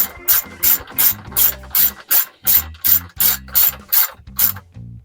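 A ratchet tightens down bolts on a phone mount in a Chevy Colorado, making about a dozen loud, close, evenly spaced clicking bursts in a steady rhythm, with no talking.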